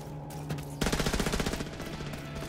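Rapid automatic weapon fire in The Division 2, a dense loud burst starting partway through over steady game ambience, with no one speaking.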